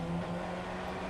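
A Formula Ford 1600 race car in iRacing at Oran Park Moto Track, its engine revving in a steady high drone with a constant tonal whine for about a second, held at full throttle, with no voices.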